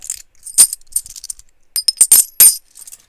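Silver half dollar coins clink and jingle in a scattered series of crisp, ringing metallic taps, some sustaining briefly, close and fairly loud, with no voices.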